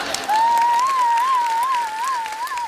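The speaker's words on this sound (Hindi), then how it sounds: "और आप क्या तालियां बजा रही हो?" A studio audience at a comedy show bursts into applause, a steady wash of clapping lasting a couple of seconds with a sustained whistled or sung tone riding over it.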